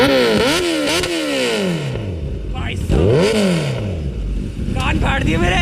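A Kawasaki superbike, a ZX-10R or Z900, revs hard on an Indian highway. The loud engine note sweeps up and down several times in quick blips, with people talking nearby.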